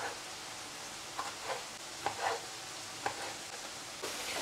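Sausage frying in a pan, a steady soft sizzle with a few brief stirring scrapes and clicks near the mic, no talking.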